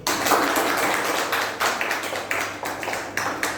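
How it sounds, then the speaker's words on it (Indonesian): A seminar audience claps for a speaker on personal branding at the moderator's request, a steady wash of many hands with a few sharper claps standing out near the end. "Mari kita tepuk tangan dulu."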